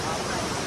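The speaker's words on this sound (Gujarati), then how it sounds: "આ જે સીડીઓ ચડવાની છે એની ઉપર પાણી આવી ગયું અત્યારે તો." Rainwater pours down the steps of a hilltop temple in a heavy downpour, a dense continuous rushing roar, loud and close throughout the brief moment.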